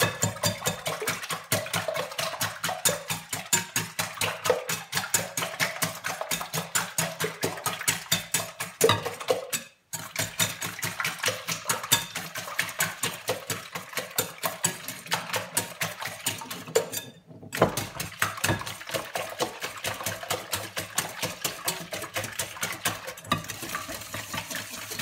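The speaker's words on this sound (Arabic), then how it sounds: "دابا غادي ندوزو البيض، غادي نطربو" An electric mixer beats eggs into brioche dough with a steady whirring drone and rapid rhythmic ticking of the beaters against the bowl. It runs continuously, with two brief cutoffs partway through, and no talk is heard.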